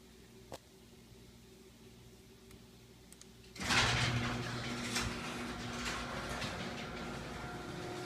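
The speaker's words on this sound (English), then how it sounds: "And it'll close the garage door." An Insteon-controlled garage door closes: after a few seconds of near quiet with a faint click, a steady mechanical rumble starts suddenly and continues moderately loud to the end.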